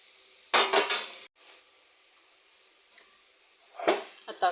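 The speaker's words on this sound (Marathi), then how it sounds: "आणि आता ह्यात बारीक केलेली चपाती घालते" Crumbled chapati tipped into a pan of oil seasoned with chili powder, salt, turmeric and a little sugar, giving two bursts of clattering and scraping against the pan with a faint click between them, close up.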